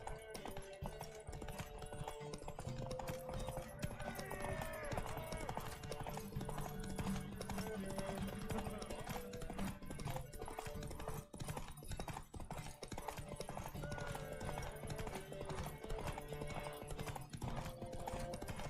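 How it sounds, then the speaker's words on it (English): Galloping horse hooves in a race from the video game The Witcher 3, a steady rapid clip-clop under game music and ambience, fairly faint and continuous. "Competitors, saddle up! On 3! 1, 2, That's it, 3! Roach. Off you go"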